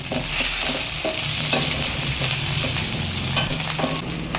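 Mustard seeds, cumin and onion fry in hot oil with a loud, dense sizzle and crackle, punctuated by a few sharp stirring knocks against the pan, and no voices.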